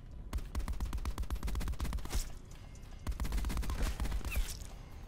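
Rapid automatic gunfire and bursts of shots from a multiplayer match in Call of Duty: Black Ops 4, loud and dense, nearly continuous for five seconds with a short lull around the midpoint.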